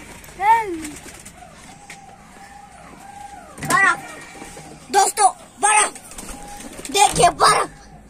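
Several short pigeon coos come in bursts over a few seconds, fairly close, near a fountain, alongside other bird calls and faint background noise.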